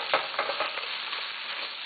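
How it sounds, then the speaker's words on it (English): A whole sprig of fresh thyme is stirred into a frying pan. Quick scraping strokes sound over a soft, steady sizzle, fairly close and with no talking. "You could add just a whole sprig, give it a nice stir"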